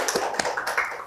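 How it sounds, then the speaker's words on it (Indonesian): A small audience at a performance of Acehnese oral tradition gives a short burst of scattered, close hand claps, a few distinct slaps in about a second. "silakan tepuk tangan"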